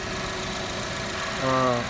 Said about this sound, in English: as you can see, the engine's running perfectly fine